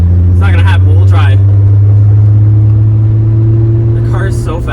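A Volkswagen VR6 engine drones loud and steady during an Autobahn run, with brief bursts of talking near the start and end.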